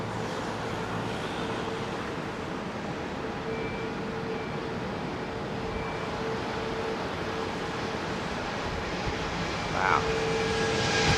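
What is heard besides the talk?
Boeing Dreamliner jet airliner at Heathrow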